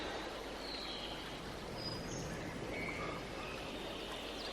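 River water flowing around a character's legs in Farming Simulator 22, a soft continuous babbling rush with faint chirps over it, quiet and steady.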